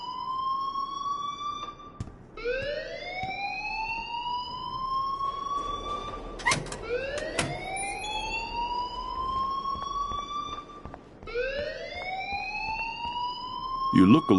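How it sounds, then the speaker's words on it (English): A fire alarm blares in Life is Strange, a loud rising electronic whoop that repeats every few seconds, broken by sharp clicks and thumps. "please turn off that alarm since that's your job"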